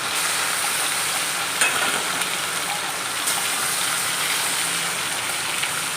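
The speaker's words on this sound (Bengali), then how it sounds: "ইলিশ মাছের মাথাগুলো এই যে ভাজা নিমু" Hilsa fish heads fry in a pan with a continuous close, bright sizzle and hiss, with a few soft clicks from the pan and spatula over six seconds, no talking.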